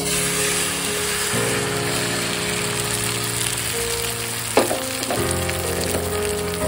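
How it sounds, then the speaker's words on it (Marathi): A beaten egg mixture hits hot oil in a pan and fries with a steady, close sizzle, a few clatters of utensils breaking through briefly near the middle. "आता आपण एका पॅन मध्ये तेल गरम करून घेतलेलं आहे, त्यात आपण ते मिश्रण घालूया।"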